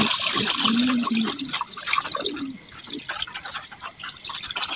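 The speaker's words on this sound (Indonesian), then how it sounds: "buang airnya biasanya pakai tangan begitu ya" Rinse water poured off soaked corn by hand, meant as pigeon feed; a close, fairly loud splashing trickle and sloshing that fades into lighter dribbles with faint background noise.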